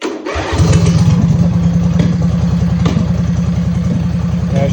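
Dirt bike engine, a Peerless 820, starting up after a service, catching quickly into a loud, rapid, steady putter close by, with a few revving pulses over the running engine.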